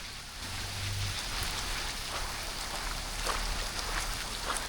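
Steady rain pattering down on surfaces at a riverside campsite, a constant hiss with scattered heavier drops and a low rumble underneath.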